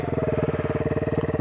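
Sinnis Apache 125 motorcycle engine idling close up, a steady, even putter with a fast regular pulse and nothing else over it.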